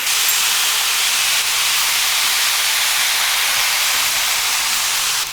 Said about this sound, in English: we're gonna deglaze with some of our fancy sake